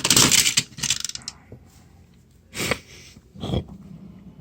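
A Transformers Cyberverse Ultimate Class Shockwave toy being transformed gives off close, loud plastic clicks, creaks and rubbing, busiest at the start and then in two short separate bursts later.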